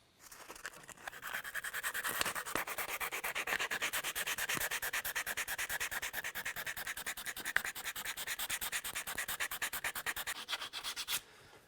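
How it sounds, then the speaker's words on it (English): Sandpaper rubs rapidly back and forth on the edges of a rawhide-backed primitive bow, a close, fairly quiet rasp in fast even strokes lasting the whole time. "I'm just gonna take this sandpaper and just sand these edges down"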